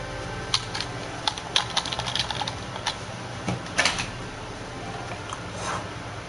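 Irregular bursts of key clicks on a computer keyboard that is not working properly, with scattered taps and short quick runs over a steady background hum, fairly close and without speech.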